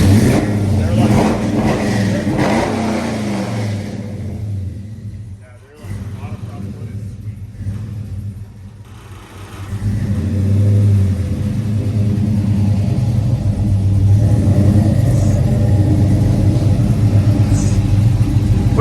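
A 1955 Chevy Fleetside truck engine runs and revs with a loud, throaty rumble that dips briefly and then swells again, while people talk over it.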